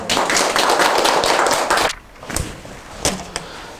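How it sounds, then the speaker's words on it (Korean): An audience claps in a lecture hall, a dense burst of applause lasting about two seconds before dying away, followed by a few scattered claps and light taps. "박수 한번 해주세요."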